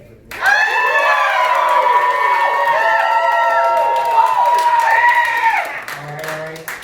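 A convention panel audience cheers and whoops loudly for the DC side in a Marvel versus DC debate, a dense wall of shouting voices sustained for about five seconds before tapering off.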